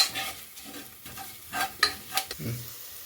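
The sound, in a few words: kasuri methi frying in a pan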